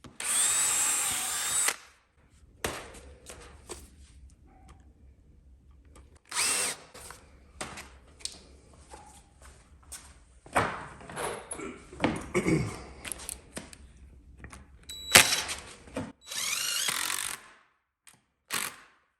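A power drill drives a screw into wood while a chicken tractor is built, with several short whirring bursts separated by quiet handling noises and clunks, close and moderately loud.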